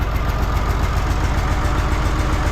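An URSUS C3603P tractor engine idles steadily at about 800 rpm: a loud, close, even diesel chug with a low pulsing rumble and no voices over it.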